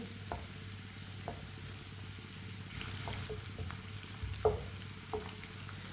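Chopped onion cooks over medium heat while a spoon stirs it, making a soft, continuous sizzle with scattered sharp clicks and scrapes of the spoon against the pan, close by and with no voices.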